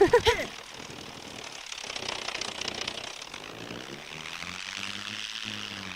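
Aircraft engine in the survival video game Scum, a steady propeller drone under a talking voice.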